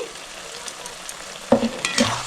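Chilli chicken sauce stirred and mixed in a hot pan, a soft scraping and gentle sizzle that grows busier with a few clattering spoon strokes near the end.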